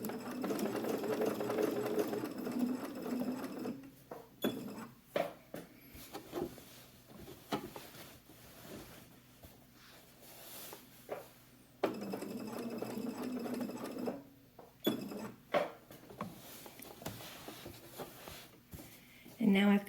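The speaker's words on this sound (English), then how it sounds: "So I'm going to go ahead and stitch this one and show you what it looks like." A sewing machine stitches a fabric pocket on a top combining knit and woven fabrics, running in steady bursts of close, even whirring with pauses between, while a person talks over parts of it.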